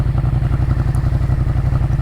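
Yamaha MT-07 motorcycle with a Jeskap exhaust idling, a steady, loud low-pitched rumble with rapid even pulsing, close and alone for about two seconds.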